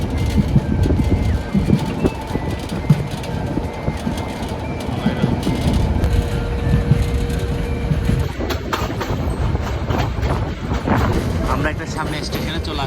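A passenger train on the Dohazari to Cox's Bazar line rolls along the tracks, heard from inside the carriage. The low rumble is loud and continuous, with rattling and faint clatter throughout and voices mixed in.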